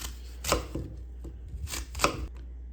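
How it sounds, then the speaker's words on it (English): A knife cutting apples into chunks on a board, four or five crisp, close chops at an uneven pace over a low steady background hum. "And just cut them into chunks."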